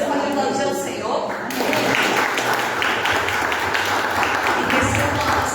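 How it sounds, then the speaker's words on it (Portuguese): A church congregation breaks into loud, dense applause that fills the room, with a voice over the clapping at first before the clapping carries on alone. "Você pode aplaudir ao Senhor?"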